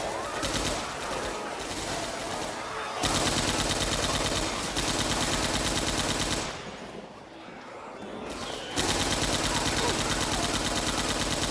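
Rapid automatic gunfire from Left 4 Dead 2 rattles in long bursts with a brief lull midway, loud and dense, with players talking over it now and then.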